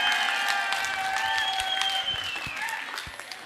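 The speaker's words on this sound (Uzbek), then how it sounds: "Bir qarsak bo'lsin, bir qarsak bo'lsin." Guests at a wedding evening celebration clap in steady applause that gradually thins, with sustained singing or music tones running over the clapping throughout.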